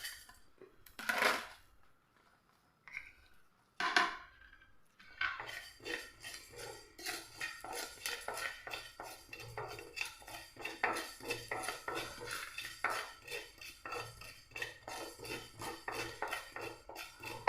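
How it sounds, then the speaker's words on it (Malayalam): Cumin, mustard and fenugreek seeds roasting in a pan for raw mango pickle, starting with a couple of loud clanks, then a steady rattling and scraping of seeds stirred against metal, close and continuous. "ഇത്രയും നമുക്ക് ഇതിലേക്ക് ഇട്ടിട്ട് ഒന്ന് വറുത്തങ്ങ് എടുക്കാം."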